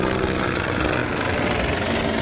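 A helicopter flies overhead with a loud, steady roar of rotor and engine that fills the whole stretch without letup.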